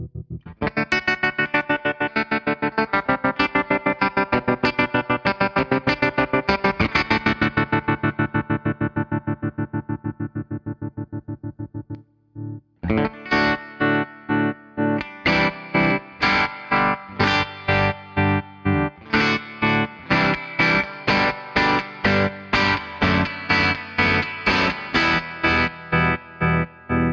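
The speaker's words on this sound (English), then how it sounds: "a good look at some of the settings and sounds of the Old School Tremolo by VFE Pedals" Electric guitar played through a VFE Old School Tremolo pedal, with sustained chords pulsing in a fast, regular volume throb; after a short break the playing returns with choppier, brighter strummed chords that keep the same steady pulsing, loud and alone.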